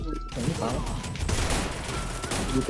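Rapid, continuous video game gunfire crackles densely throughout, a steady barrage with bursts overlapping, loud and near, with faint voices mixed underneath.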